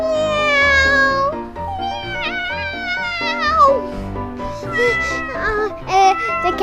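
A child-like voice imitating a cat's meow, drawn-out high pitched meows repeated several times in a row, close and fairly loud.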